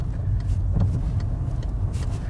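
A car on a city driving-test route pulls over and stops on the right side, heard as a steady low interior rumble with faint clicks, no voices.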